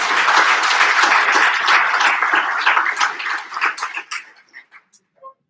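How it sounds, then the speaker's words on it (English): Loud audience applause at a Hall of Fame banquet, honoring young athletes; dense steady clapping that thins out and trails off into a few scattered claps. "how about a round of applause for these young athletes?"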